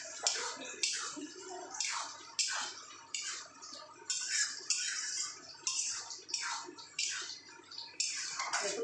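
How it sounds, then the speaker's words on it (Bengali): Tarka dal with salt and slit green chillies is stirred in a pot. A spoon makes regular wet scraping strokes roughly every second, each a short splashy swish, with no voices. "ভালো করে এটাকে মিশিয়ে নেব।"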